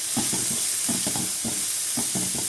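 Baby corn manchuria fried rice being stirred with salt, chilli and pepper powder in a hot pan, soft steady sizzle under rhythmic scraping strokes of a spoon, close by, without talk.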